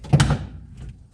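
A single metallic clang while building a 1952 International truck, with a sharp strike that rings briefly and fades, followed by faint shuffling.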